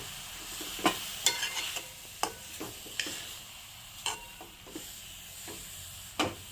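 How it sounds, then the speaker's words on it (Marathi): Carrots for carrot halwa being stirred and sautéed in a pan over a low flame, a soft spatula scraping the pan in irregular strokes over a faint sizzle, close and quiet, no talk. "गाजर पण थोडासा मऊ होईपर्यंत आपण मंद आचेवर छान असं परतून घेऊया"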